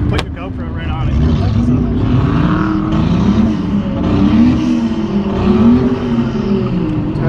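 A turbocharged car revving, its engine droning and rising steadily close by, with people talking over it.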